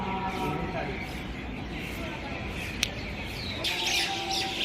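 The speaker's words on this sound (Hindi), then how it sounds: "देखो कितनी प्यारी चिड़ियाँ हैं यार" Small birds chirp and tweet in scattered bright calls over a steady background hiss, fairly near but not loud.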